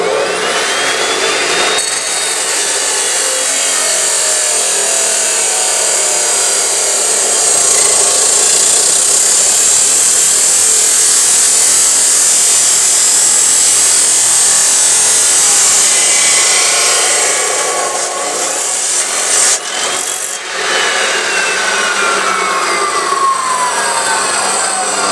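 A Porter Cable 14-inch chop saw cuts through a 2.5-inch metal fence-post tube, a loud continuous high grinding whine lasting over twenty seconds, then briefly dipping as the cut finishes, with no talk.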